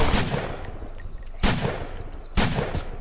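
Gunfire in a zombie survival video game. Three loud, close bursts each hit with a sharp crack and decay with a metallic ring, evenly spaced about a second apart.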